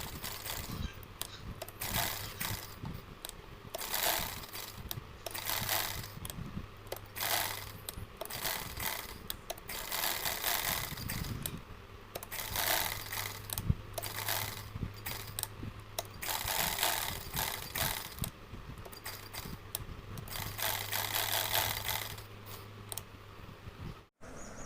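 A sewing machine runs in bursts while stitching a cloth pocket, its rapid mechanical whirring close and steady over several long stretches, separated by brief pauses with small clicks and handling noises.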